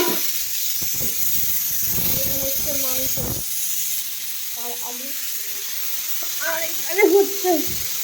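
Eggplant fries in a pan at home while a family cooks, a steady, moderately loud sizzle running under talking voices throughout.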